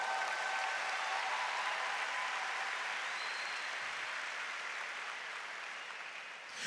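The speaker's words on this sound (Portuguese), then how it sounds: "Pode aplaudir, pode aplaudir." A church congregation applauds during a sermon, a dense, steady wash of clapping that fills the whole stretch at even loudness, with no voices over it.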